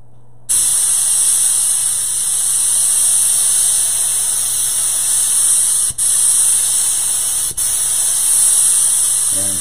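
A spray gun lays down a second coat of HOK basecoat paint with a loud, close, steady hiss that runs almost unbroken, dipping twice briefly as the trigger is released.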